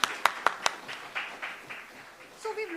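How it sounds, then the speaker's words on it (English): A few sharp handclaps at a business forum chapter meeting, scattered and quick, then fading into softer clapping mixed with voices talking nearby. "Big round of applause to you."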